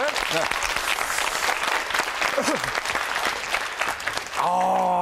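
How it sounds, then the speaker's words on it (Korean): Warm applause for a teacher from a studio audience at an education talk event, a full wash of clapping that continues under a speaking voice before someone begins to talk clearly at the end. "박수 한번 주세요, 우리 선생님께."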